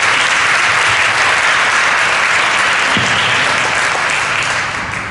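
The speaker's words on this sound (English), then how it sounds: "I want to give them all a round of applause for being here today." Steady, loud applause from an audience at a mayors' forum on preventing school shootings, sustained throughout and tapering slightly at the end.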